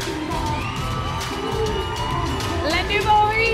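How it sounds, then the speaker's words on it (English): A crowd at the Junk Kouture World Final 2023 cheers and whoops for the winning Ready to Wear design, a steady wash of applause and shouting with a few higher yells rising toward the end. "Big cheer for Le Nouveau Riche there."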